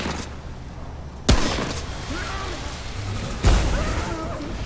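Two sharp gunfire blasts ring out in the video game Remnant, each a loud broadband crack with a short decaying tail, spaced about two seconds apart over a steady game ambience with faint tonal effects between them.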